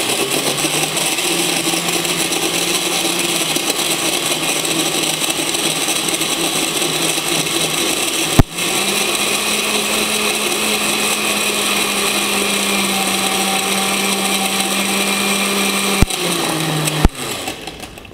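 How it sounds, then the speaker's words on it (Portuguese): A loud blender crushing ice cubes runs continuously for a long stretch, its motor whirring with a gritty churning texture and briefly cutting out and restarting near the end. "vamos bater e vamos parar nosso liquidificador quando a gente para de escutar as pedrinhas de gelo"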